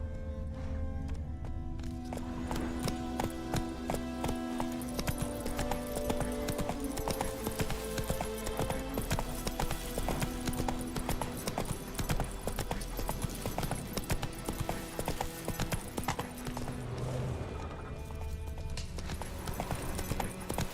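A horse gallops in a fast, steady clip-clop rhythm of hooves that continues without a break, loud and close, with no talking.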